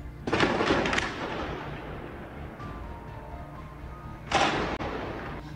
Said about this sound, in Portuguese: Teve troca de tiros pela cidade.